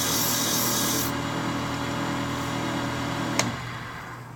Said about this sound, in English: Doing some initial sanding here.